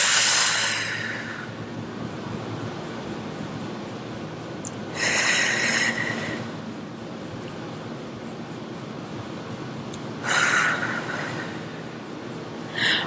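Deep, slow breaths during a full-body stretching exercise, three long airy exhales spaced several seconds apart, close and clear over quiet room tone.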